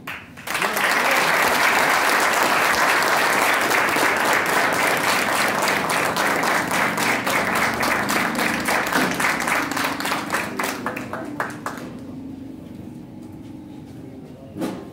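An outdoor political campaign event for a mayoral pre-candidate in Recreo, Argentina, ends in sustained crowd applause, a dense roar of many hands that gradually thins into scattered claps before fading.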